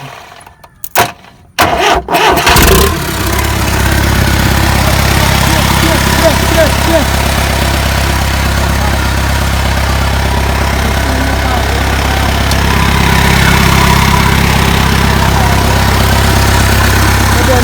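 A Swaraj Mazda truck's diesel engine cold-starts after sitting six years: a few brief cranking bursts, then it catches and settles into a loud, steady, close-up rumbling idle that continues to the end.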